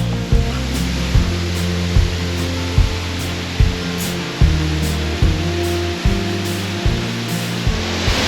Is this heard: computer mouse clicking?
no